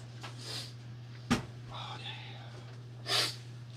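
A single sharp sneeze bursts out amid a quiet room with a steady low hum, followed by soft breathy sounds and faint murmuring.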